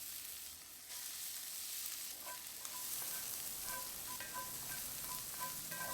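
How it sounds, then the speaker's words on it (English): Onion and peppers frying in rendered bacon fat in a pot on a Santa Maria grill, a continuous crackling sizzle with faint pops and a brief clatter, steady and moderately close, no speech. "Now let's add in our onion and peppers."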